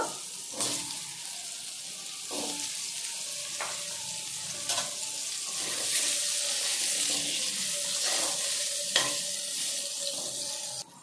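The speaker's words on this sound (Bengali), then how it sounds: "ওই তেলের মধ্যে দিয়ে দিচ্ছি গাজর। গাজরগুলো হালকা ভেজে নেব।" Carrots being lightly fried in hot oil left from frying potatoes, a steady close sizzle with periodic scraping stirs and clinks throughout, no voices.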